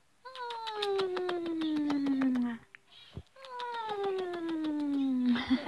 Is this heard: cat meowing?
yes